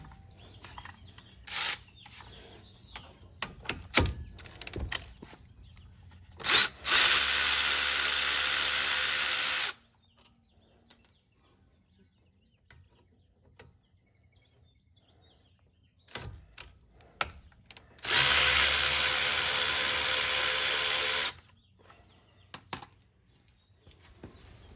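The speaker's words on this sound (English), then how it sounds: "we're going to take our 14mm here and we're going to loosen up the two caliper bolts" A 14mm socket on a power tool loosens the caliper bolts on a Chevrolet Malibu wheel hub, two loud sustained bursts of a few seconds each, separated by quiet clanks and handling noise, with no talking.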